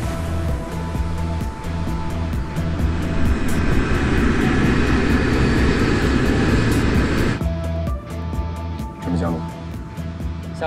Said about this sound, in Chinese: 飞机马上就要降落了，预计在30分钟后到达。